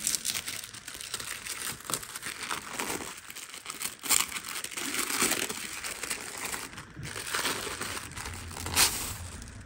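Parcel packaging being torn open and crumpled, close crinkling and ripping of paper or plastic in bursts with short pauses, no talk.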